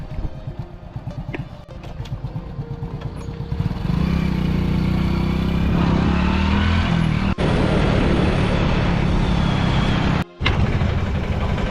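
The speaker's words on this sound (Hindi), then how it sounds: "अब बात करते करते मैं देखता हूँ कि एक बाइक आ रही है" A motorbike rides along a road, the engine growing from a rough approaching putter into a loud, steady close-up drone with wind rush, no voices heard.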